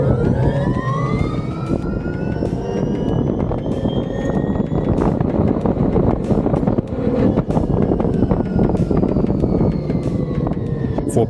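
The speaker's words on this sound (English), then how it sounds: "It's really tearing it up with wheel spin" An electric Cheetah UTV accelerating hard off-road with wheel spin, a rising electric motor whine sweeping upward over a rough, gusty wind and tire roar, repeated twice.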